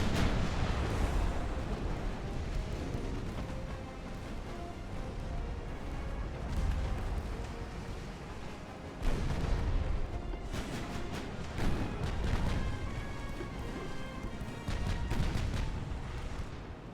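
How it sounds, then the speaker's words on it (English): Naval gun salvos in the warship game Ultimate Admiral: Dreadnoughts, deep rumbling booms rolling one after another over a continuous roar of sea battle, with no clear single shots. "I think they fired off another salvo from their B-33"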